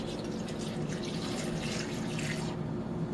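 Distilled water poured around rose petals in a bowl for homemade rose water, a steady close splashing trickle with no talking.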